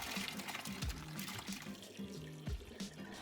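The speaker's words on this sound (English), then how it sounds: "After about 30 minutes of boiling, strain off the water from your pork skins." Boiling water being strained off pork skins, a continuous pouring splash and trickle into a sink with gurgling bursts, fairly quiet and close, no voices.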